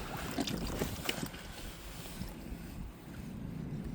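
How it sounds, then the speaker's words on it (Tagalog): Steady rushing wind buffets the microphone, with a broad roar and low rumbling gusts continuing throughout, no voices. "Malakas po ang hangin."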